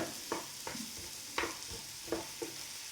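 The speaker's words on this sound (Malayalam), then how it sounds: "പഴം ബട്ടറിൽ ഒന്ന് വാടിയിട്ടുണ്ട്" Sliced plantain softens in melted butter in a pan, giving a faint, steady sizzle broken by a few soft scrapes and taps of a spoon stirring it, with no talking.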